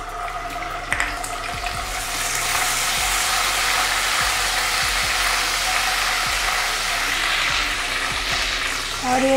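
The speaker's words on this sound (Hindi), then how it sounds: "अब इसमें अदरक लहसुन डालते हैं।" Ginger and garlic fry in hot oil in a pan for restaurant-style Indo-Chinese chicken fried rice, making a fairly loud, steady hissing sizzle punctuated by occasional clicks and pops from stirring.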